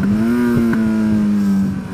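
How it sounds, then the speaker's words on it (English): A motorcycle engine hums steadily under engine braking, its pitch holding nearly level before dipping slightly toward the end, close and loud with no talk. "now I'm going to go down two gears"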